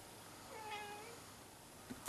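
A cat meows once indoors, a single drawn-out, fairly faint call over quiet room tone, followed by a couple of small knocks.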